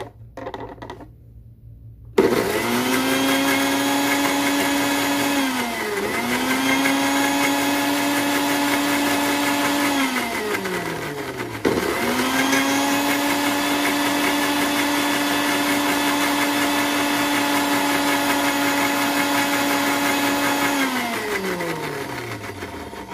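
Electric blender grinding garlic for an Arabic-style garlic sauce, a loud steady high whine running in two long bursts with a brief pause as it spins down and restarts, no talking.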